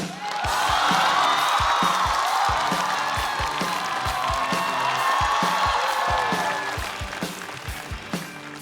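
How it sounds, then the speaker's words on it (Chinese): A studio audience applauds and cheers to welcome a stand-up comedian onto a comedy competition stage, loud sustained clapping with whoops that holds steady for several seconds before slowly fading. "我们掌声有请韩"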